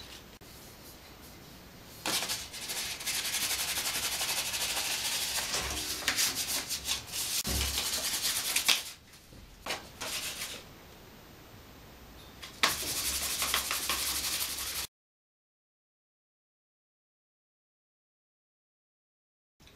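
Sanding metal primer smooth on a bicycle frame by hand, a steady close rasping rub in long strokes with brief pauses, ending in silence.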